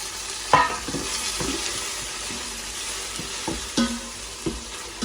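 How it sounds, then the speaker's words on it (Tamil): Onions and tomatoes fry for chicken biryani, a continuous sizzle under occasional stirring knocks and scrapes against the pan, close and moderately loud, with no talking. "வந்து கொஞ்சம் வதங்கிட்டு நாங்கள் இதோட தக்காளி பழத்தையும் சேர்ப்போம்."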